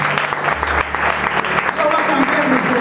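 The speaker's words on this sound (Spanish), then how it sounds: "Dile un aplauso al Señor." A church congregation applauding the Lord during a sermon: loud, dense, sustained clapping from a crowd filling the whole few seconds, with voices and cheers mixed in.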